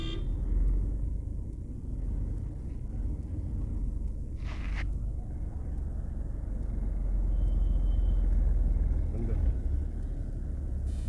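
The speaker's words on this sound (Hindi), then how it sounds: "हम मौजूद हैं भादराबाद टोल प्लाजे पर।" Steady traffic rumbles at the Bhadrabad toll plaza, with vehicles idling and moving through in a continuous low drone, a brief horn toot partway through and faint voices in the background.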